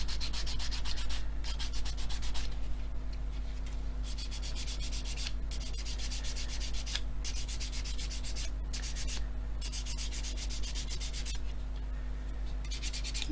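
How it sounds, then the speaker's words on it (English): Coarse hard sanding stick rubbed back and forth to flatten a part of an Airfix 1/24 F6F-5 Hellcat plastic model kit, giving close, steady, continuous scratchy strokes with brief pauses, no talking. "So I'm just going to sand this now. I need a hard stick, something fairly coarse."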